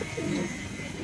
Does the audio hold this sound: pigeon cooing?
yes